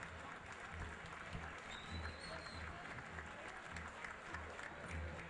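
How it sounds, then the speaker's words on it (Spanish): Crowd applause at an amateur football match in a stadium, a steady wash of clapping from the stands for a substitute coming on, continuous and moderately distant with no talk over it. "Muy aplaudido."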